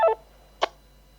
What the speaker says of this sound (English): And that was the noise of the talk group disconnecting.